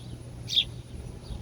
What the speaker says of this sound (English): you've probably heard a bird in the background